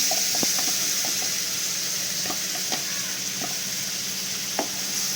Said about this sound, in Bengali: তারপর সব কিছু একসাথে ভালো করে মশলাটা মিক্স করে নেব। তেল না ছাড়া অবধি ভালো করে এটাকে কষিয়ে নিতে হবে।